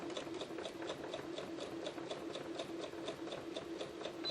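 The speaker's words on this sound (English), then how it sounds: "Couple stitches forward, couple stitches back, and let's sew our 1/4 inch seam." A sewing machine stitches a quarter-inch seam on quilt fabric with a fast, steady mechanical rattle of needle strokes. It runs continuously at a fairly quiet level, with no talking.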